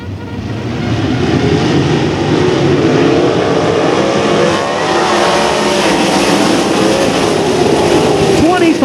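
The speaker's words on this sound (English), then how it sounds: "It is feature time for the USAC East Coast Sprint Cars." USAC East Coast sprint cars roaring around a dirt oval in a feature race, a loud continuous pack of engines revving and passing throughout.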